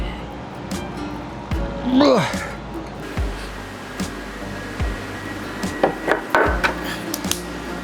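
Leftover plywood stencil pieces are lifted out of an epoxy-set table project, giving a few hollow wooden knocks and scrapes close by, with a brief voice partway through.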